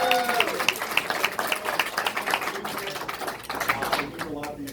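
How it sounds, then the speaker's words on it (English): Audience applause at a presidential campaign event in Oakland, California: sustained dense clapping from a crowd lasting several seconds, with a voice over it at the start and other voices mixed in. "Let's give them a big round of applause."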